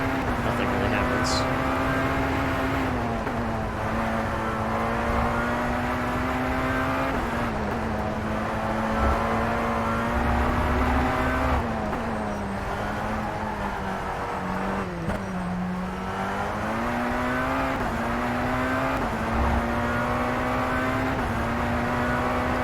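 Race car engine of a Tatuus open-wheel car in the sim racing game rFactor 2, a steady droning tone rising and falling as the driver accelerates and shifts, running continuously throughout with someone talking over it.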